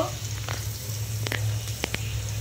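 Green chilli and cumin paste sizzling in a pan while potol chingri cooks, a steady close frying hiss with a low hum underneath and a few brief stirring clicks, no talk.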